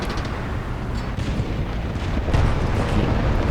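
Tank cannon fire in War Thunder sounds as heavy booming blasts over dense, rumbling battle noise, with a stronger burst building in the last second.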